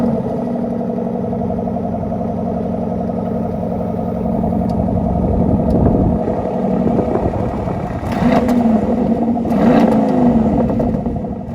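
A Porsche Cayenne SUV engine starts, settles into a steady idle, then is blipped in a couple of short revs near the end, heard from inside the cabin with no talking.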